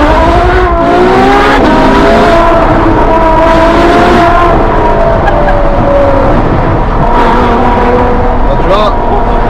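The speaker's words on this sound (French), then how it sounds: "t'as vu la sonorité du moteur et la rapidité aussi de la boîte de vitesse" A Ferrari with an 800 hp engine accelerates hard with a loud, continuous roar, pitch climbing and dropping through rapid gear shifts, heard from inside the car with people talking over it.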